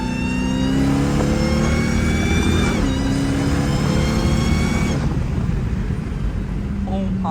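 A hoodless Dodge Demon 170 Charger accelerates hard, its engine note climbing steadily through rising gear sweeps, then easing off near the end. The sound is loud, close and continuous, with voices faintly present.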